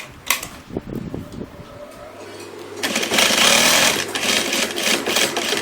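An industrial sewing machine with a rotary hook stitches fabric, starting after a few handling knocks and then running in a fast, steady mechanical whir up close.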